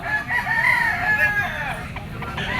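A bull stag rooster at a poultry sale crows in a drawn-out call, loud and close, with some background murmur beneath it.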